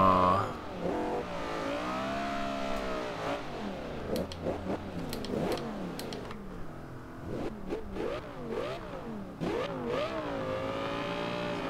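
A 2013 Audi R8 engine in Forza Horizon 2 revs repeatedly, its pitch sweeping up and down in a series of sharp climbs and drops, loud and close with no talking.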